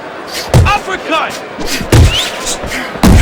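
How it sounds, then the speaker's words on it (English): Uppercut punches land in the Fight Night Champion boxing game as three sharp, heavy thuds spaced about a second and a half apart, with a commentator talking and a crowd audible between the hits. "That's a punch where he just nailed him."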